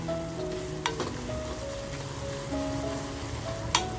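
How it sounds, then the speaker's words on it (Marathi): Ground spice masala fries in oil in a pan, a soft continuous sizzle with a few sharp utensil clicks and light stirring, close but fairly quiet and without talk. "मसाला टाकून छान असा तेलाबरोबर फ्राय करून घेऊया"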